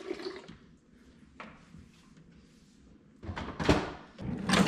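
Water pours from a self-filling fridge pitcher in a home kitchen. A quiet stretch with a soft knock comes first, then a louder, close rushing pour fills the last second and a half, with no talking.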